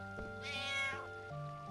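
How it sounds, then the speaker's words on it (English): A cat meows in the Final Fantasy IX video game, one drawn-out mewing cry followed by a shorter one, clear and close over a steady musical background. "That's a cat?"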